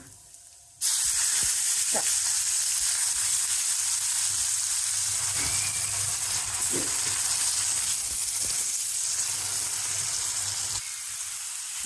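Vegetable tempering crackles and sizzles in hot oil in a pan, starting abruptly with a loud burst and then holding as a dense, steady hiss with a few scattered pops and small clinks, no talking.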